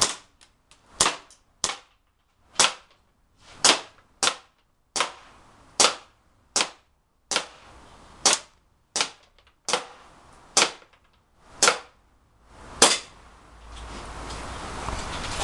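Caspian 1911 airsoft pistol fired in a slow series of about sixteen sharp, snappy cracks, each followed by a brief echo, close and loud, with faint background noise between shots.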